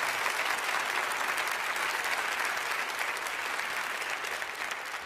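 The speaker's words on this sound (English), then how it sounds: "Give these guys a round of applause." An audience applauds steadily for several seconds, a dense wash of clapping from a large crowd at a talk, holding level and easing slightly at the end.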